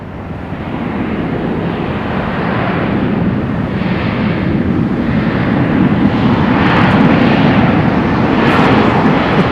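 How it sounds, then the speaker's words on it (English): A Boeing 737 airliner at Raleigh-Durham airport roars along the runway, a loud broadband jet rumble building steadily with some wind noise on the microphone. "this American 737 gonna roll long"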